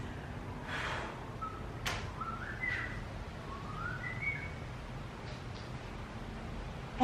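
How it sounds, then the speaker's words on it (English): Faint, distant whistling in a few short rising and sliding notes, heard over a steady outdoor background hiss. "I heard you whistling from really far away"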